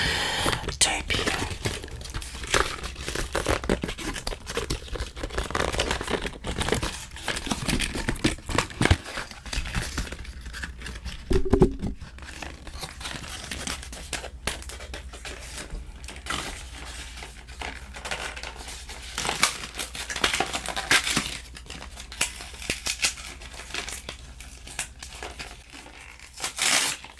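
Taped packaging being pulled open, with a steady run of crinkling and sharp tearing bursts up close, broken by brief pauses and a few louder rips, while a soft voice speaks over parts of it.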